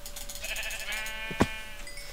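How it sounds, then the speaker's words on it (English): A single short sheep bleat rings out in Minecraft, a brief bright cry over steady in-game ambient noise and music. "I'm gonna kill a sheep."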